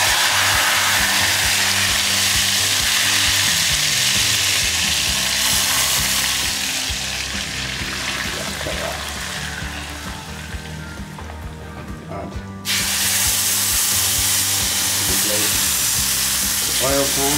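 Cumin and spices frying in hot oil for tarka dhal, a loud, continuous sizzle that dips briefly then surges back at full strength.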